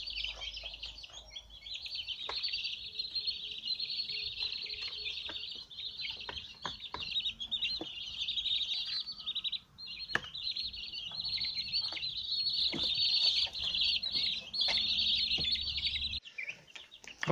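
A flock of about twenty two-week-old broiler chicks peeping and clucking constantly close by, a dense, continuous chatter with occasional soft knocks and bumps.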